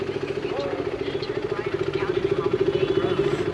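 A BMW S1000RR superbike idles at a petrol pump, its engine holding a steady, evenly pulsing throb close by for the whole stretch, with a faint clatter and background noise around it.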